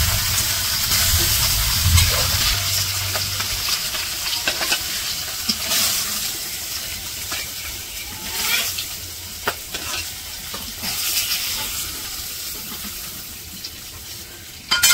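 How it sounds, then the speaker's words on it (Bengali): Fish coated in turmeric and chili frying in a pan in a village kitchen, a constant crackling sizzle with frequent scrapes and knocks of stirring, close and moderately loud without speech. "মাছ ভাজা শেষ"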